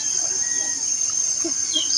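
A gangis-gangis insect calling nearby, a loud continuous high-pitched shrill drone that holds steady throughout, with faint background sounds beneath it.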